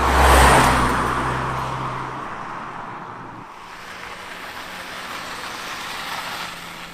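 A BMW 135i hot hatch in manual sport mode roars loudly as it accelerates at the start, then the engine note drops away into a steady road and wind rush with no talk.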